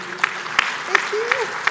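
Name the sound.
audience clapping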